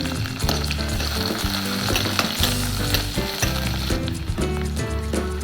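Small onions frying in oil for a kadala (chickpea) curry sizzle loudly and continuously, close up, with frequent clinks and scrapes of stirring throughout.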